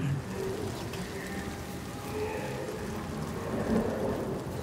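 A thunderstorm in the video game Senua's Saga: Hellblade II brings low rolling thunder and steady rain, the rumble swelling near the end, with faint bird-like calls above.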